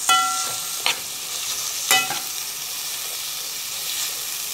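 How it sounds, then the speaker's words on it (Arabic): Peppers sauté in a frying pan under a soft, even sizzle, broken by a few sharp scraping stirs near the start and middle, close to the listener. "فدلوقتي بس انا هقلب ده كده يستوي مع بعضه او يتشوح شويه مع بعضه"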